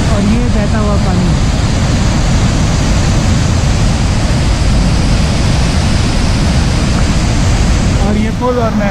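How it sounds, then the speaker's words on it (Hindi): Flowing glacier-fed mountain stream on the Valley of Flowers trek in Uttarakhand, a loud, steady broadband rush of water close by, with a faint voice briefly at the start and end. "और ये बहता हुआ पानी"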